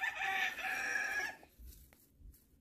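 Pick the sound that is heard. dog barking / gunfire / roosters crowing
roosters crowing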